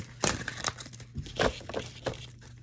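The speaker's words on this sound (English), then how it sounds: "Now I'm gonna pull from the Wisdom Oracle deck." Card shuffled and drawn from a Wisdom Oracle deck, soft crinkling and rustling of card stock in several short close bursts, quiet and without talk.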